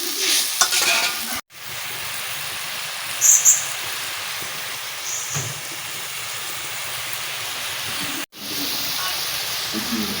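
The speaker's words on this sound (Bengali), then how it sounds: "ঝোলটা দেখো কত সুন্দর করে ফুটে গেছে কাঠের জালে" Fish and aubergine curry bubbling steadily in a pot over a wood fire, a continuous close simmer with a brief clatter at the start and short interruptions, birds chirping faintly in the background.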